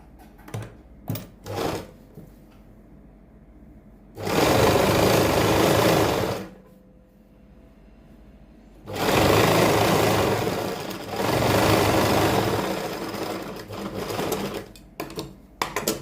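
Sewing machine stitching kurti fabric, running in two long loud bursts of rapid stitching with short taps and clicks between and quiet pauses.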